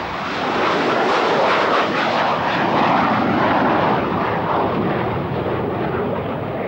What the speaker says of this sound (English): super jumbo jets like this one will carry as many as 800 people